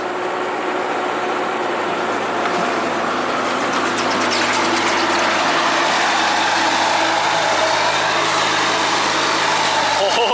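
An ASV RT-60 skid steer's engine labors and bogs down while working through rough terrain, a loud, steady drone with rising strain toward the end, with speech over the engine noise.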